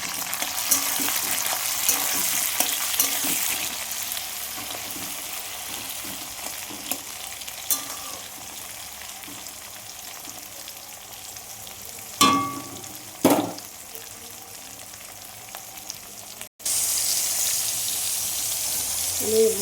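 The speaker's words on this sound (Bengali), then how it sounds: "দেখুন আমার পেঁয়াজটা একদম ভাজা ভাজা হয়ে এসছে, তা আমি টমেটোটা দিয়ে দিলাম" Tomato added to onions frying in a pan, a loud steady sizzle throughout with a couple of sharp clinks and stirring knocks, briefly cut off before the frying hiss resumes.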